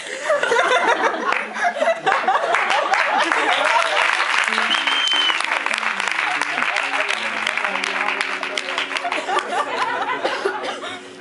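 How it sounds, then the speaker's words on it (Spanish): Studio audience on a Spanish radio music show breaks into sustained applause mixed with scattered chuckles, loud and close throughout, with a guitar-like tone underneath toward the end. "aún no he tocado nada y ya me han aplaudido"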